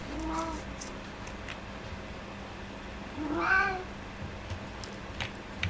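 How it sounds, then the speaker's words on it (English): A house cat meows for attention, two separate plaintive calls a few seconds apart, fairly close and moderately loud over a quiet room background. "So can you hear my cat? He wants attention."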